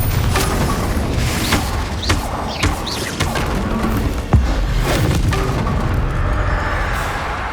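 Spell-casting effects in Hogwarts Legacy: loud magical whooshes, thuds and booming impacts burst one after another over a dense, continuous game soundscape.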